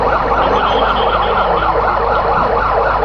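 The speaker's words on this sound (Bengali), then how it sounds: "সিভিল সার্জনের দপ্তর থেকে একটি অ্যাম্বুলেন্স এসে পৌঁছে গেছে" An ambulance siren wails loud and close with a steady rising-and-falling pattern at Sylhet airport during an aircraft fire. A vehicle engine rumbles low underneath.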